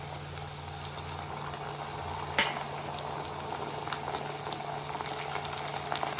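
Ginger and garlic frying with lightly browned onions in a pan make a continuous bubbling sizzle, steady and close, with a brief clink partway through.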